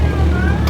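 A Jeep ZJ engine drones loudly off-road in one brief, steady, close burst with no talk.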